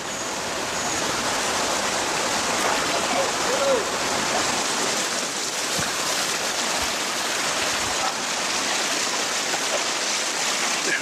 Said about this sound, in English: greeted by the heaviest rain in decades. The river is much higher than usual